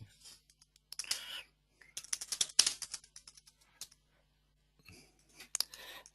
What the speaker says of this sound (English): So I'm just going through typing them in here